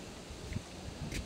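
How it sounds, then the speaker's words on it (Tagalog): Steady gusty wind roars across the microphone, a rough broadband rush with a few soft thumps and rustles mixed in. "So guys, medyo malakas ang hangin."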